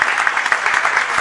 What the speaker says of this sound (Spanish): Le damos un aplausito para dar la bienvenida.